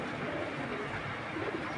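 Several big-sized racer pigeons, mated pairs kept together, give soft low cooing that stays steady and fairly close under a dense, continuous background hum with no voices.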